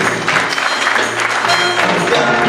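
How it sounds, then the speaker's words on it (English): A congregation claps together at a Sunday celebration service in church, dense and loud applause that continues without a break, with music or voices underneath. "Let's keep clapping."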